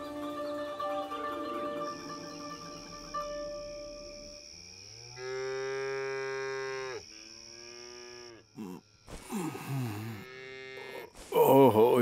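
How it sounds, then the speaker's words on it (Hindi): Cows and buffaloes low at night, long drawn-out moos one after another over a soft background hum, some louder and nearer, ending in a brief burst of louder noise. "ये तो गाय भैंसों की रामने की आवाजें हैं"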